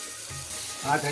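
Fish frying on a hot griddle gives a brief, steady hiss and sizzle that swells slightly toward the end, close by and without talking.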